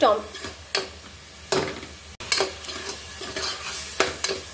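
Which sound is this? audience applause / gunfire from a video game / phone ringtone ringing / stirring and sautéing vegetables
stirring and sautéing vegetables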